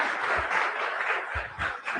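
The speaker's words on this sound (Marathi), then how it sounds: "आपण एकत्र छानपैकी टाळ्या वाजूया" Audience applause welcoming a speaker at a Marathi talk on exam stress, a steady wash of clapping lasting about two seconds with no pauses.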